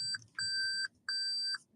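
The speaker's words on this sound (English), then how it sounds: "The beeping from when I reverse is about to happen." A car's reversing warning sounds four evenly spaced electronic beeps, clean high tones with short gaps, fairly close and alone over a faint hum.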